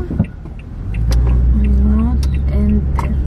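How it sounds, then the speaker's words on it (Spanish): Car engines passing on a road, heard from inside a vehicle as a steady rumbling hum that swells and holds, with people talking over it. "Allá vienen muchos carros"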